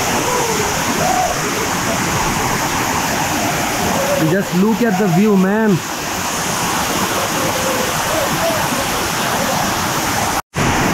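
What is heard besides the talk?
Prut waterfall roaring, Cherrapunji, Meghalaya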